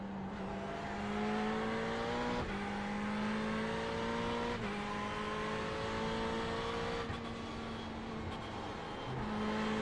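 A Ferrari 488 GT3 races at Watkins Glen in a racing video game, its engine droning steadily from inside the car and climbing in pitch through several gear changes, each marked by a brief break in the note.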